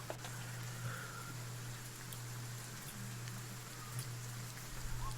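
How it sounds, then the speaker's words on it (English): Steady rain falling through an evening, a dense even hiss with a low constant hum underneath, no talk. "The rain is steady throughout the evening."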